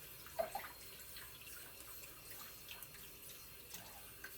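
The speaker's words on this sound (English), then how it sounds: "So we'll pour the boiling water right on that score line" Boiling water poured from a tea kettle over the score line of a glass wine bottle held in a sink, a faint continuous trickle and splash with a few small clinks near the start.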